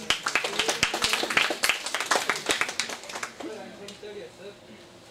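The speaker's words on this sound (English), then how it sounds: "Clap it." Audience clapping in a lecture hall during an academic session, dense broadband claps for about three seconds that then thin and fade.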